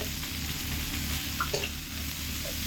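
Chilli powder frying in oil while being stirred for ghugni, a dense close sizzle over a low steady hum, with a few faint spoon clinks and no talking.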